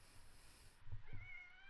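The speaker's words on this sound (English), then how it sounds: "You might hear my cat crying." A pet cat crying indoors, a short rising meow that trails into a thin drawn-out wail near the microphone, faint against a quiet room with low background hum.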